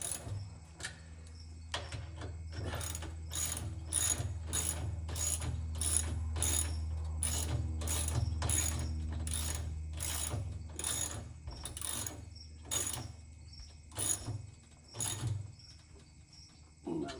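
Ratchet tightening bolts on a Westinghouse WGen7500DF dual fuel portable generator during unboxing, a rapid regular series of clicking ratchet strokes over a low hum, pausing briefly near the end.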